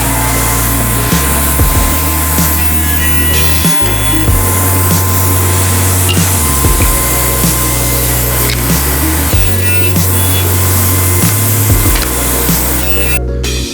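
A saw cuts a profile into film-faced plywood blanks with a loud, continuous whine whose pitch steps up and down as the blade loads and frees over about fourteen seconds.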